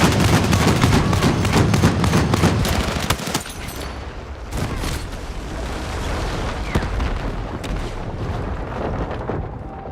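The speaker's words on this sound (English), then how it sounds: "the piercing gunfire, the reverberating bass of the explosions" Dense, loud bursts of gunfire and booming explosions with deep rumbling bass in the video game Battlefield 6, continuous and chaotic throughout, easing slightly after the first few seconds.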